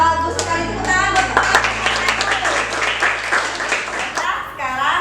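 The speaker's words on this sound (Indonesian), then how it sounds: "Tepuk tangan buat" Children clap their hands in a classroom, a burst of quick hand claps over a sustained tone, with voices overlapping the clapping and speech resuming near the end.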